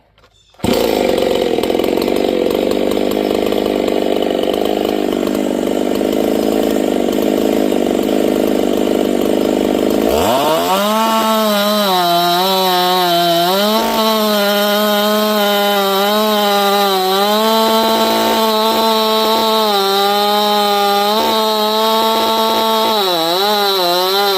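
A Makita 7900 chainsaw, freshly upgraded, roars at close range: a loud buzzing high-rev run drops into a rough idle, then revs back up and holds a steady screaming pitch with slight wavering, no voices.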